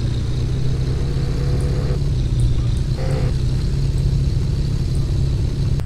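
Supercar engine idling in the video game Car For Sale Simulator 2023, a steady, loud low rumble that holds unbroken throughout with no voices.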